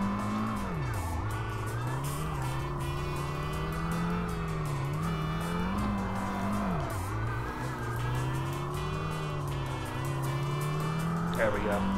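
A Daihatsu car drifting with handbrake in the Tokyo Xtreme Racer Drift 2 video game, engine droning and rising while tires squeal and slide steadily, someone talking over it.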